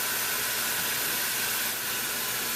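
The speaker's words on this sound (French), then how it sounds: "on remet le couvercle dessus et on laisse remonter la vapeur une deuxième fois." Steam hisses from a covered pan of sautéed vegetables for chicken stir-fry with hoisin sauce, a loud, continuous broadband rush with no breaks and no talking.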